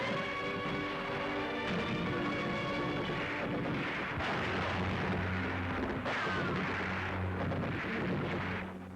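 Flail tank chains beat the ground and set off landmines in a series of dull, rumbling blasts spaced a few seconds apart, set against an orchestral score in an old wartime newsreel.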